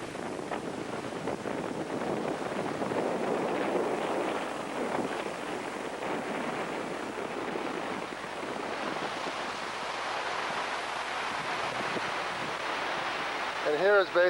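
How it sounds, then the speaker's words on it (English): Wind and surf rush steadily where a river meets the Pacific Ocean at a beach, a continuous broadband roar of waves with gusty wind buffeting the microphone throughout. "here is basically where the river meets the Pacific Ocean"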